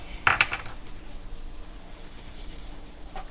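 A spoon stirs melting butter in a pan in a home kitchen, with a quick cluster of metallic clinks against the pan early on. Quieter soft scraping and faint background hum follow.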